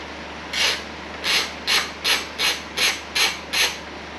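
Allen screws are loosened from the top cover of a Suzuki V-Strom motorcycle with a series of about eight evenly spaced, short scraping ratchet-like turns, close and alone.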